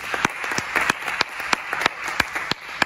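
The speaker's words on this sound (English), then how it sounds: "Give God a hand clap for praise" Congregation clapping hands in praise during a church service: sharp, distinct claps at an uneven rhythm, a dozen or so standing out over a softer background of scattered clapping.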